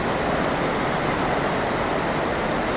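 A small torrent of rushing water on the Gave de Pau at Lourdes, near a riverbank worksite for a fish pass, gives a steady, loud, broadband roar with no breaks and no voices.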